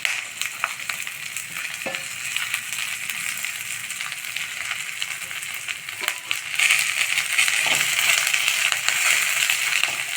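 Ridge gourd peels sauté in a hot pan with a steady, bright sizzle and crackle, broken by occasional clinks of stirring, growing a little louder toward the end.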